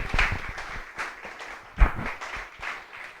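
A church congregation claps together in steady, moderately loud applause that rises and falls over a few seconds, with no talking over it.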